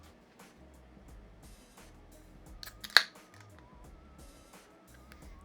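A beer bottle cap is pried off with a short hiss and a sharp pop, amid quiet background noise.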